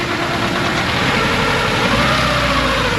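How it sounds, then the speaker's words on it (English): A car engine idling with a misfire, a loud, steady close-up rumble that runs unbroken throughout with no voices. "It's got a misfire too."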